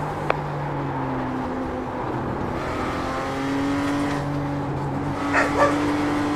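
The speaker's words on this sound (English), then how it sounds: "Oh, sorry about my dogs." A few short dog barks and yips break out near the end, partly masked by the steady engine drone of a BMW M2 in a racing game.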